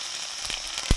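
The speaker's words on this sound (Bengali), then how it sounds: "হলুদ দিয়ে আদা বাটাটা দিলাম ডাল ফুটানোর জন্য" Ginger paste and turmeric hit hot oil in a pan while dal is being cooked with whole cumin, giving a soft, steady sizzle with a brief louder crackle near the end.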